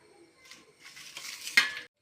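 A utensil stirs mashed boiled chicken and potato in a pan, giving a few brief scraping strokes with faint sizzling and one sharper clink near the end.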